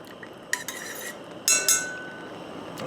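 A spoon stirs a thickening sauce in a pot for classic roasted chicken, giving a few sharp metallic clinks and scrapes in quick bursts over a quiet hiss.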